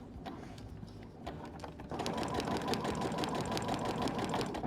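A sewing machine stitches along the lines of a foundation-pieced block, its fast mechanical rattle running close and steady, growing louder and denser partway through.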